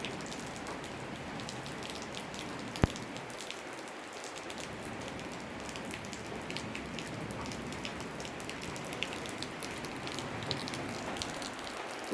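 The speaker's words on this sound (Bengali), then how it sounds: "আজকের আমাদের ফুলটাইম বৃষ্টি সকালবেলা, সকাল 6টায় সারা রাত বৃষ্টি হয়েছে।" Soft, steady morning rain patters on surfaces after a night of continuous rainfall, a constant hiss of drops with one brief sharp tap, fairly faint and with no voices.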